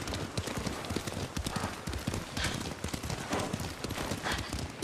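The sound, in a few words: horse hooves while riding in Ghost of Tsushima video game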